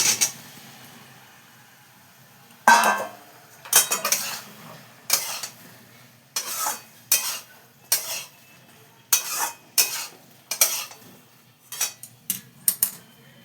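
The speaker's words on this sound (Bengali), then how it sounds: "এইবার আমি এতে এই যে তোমার মাশরুম আর সোয়াবিনটা দিয়ে দিই" A spoon scrapes and clanks repeatedly in a pan as mushrooms and soybeans are stirred into a spice paste, sharp rhythmic metallic strokes over a faint background hum.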